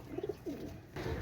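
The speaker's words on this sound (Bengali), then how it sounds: "এক জোড়া স্কুলওয়ালা কবুতর" A pair of golden pigeons giving a brief, soft cooing call of a few low throaty pulses, close and alone.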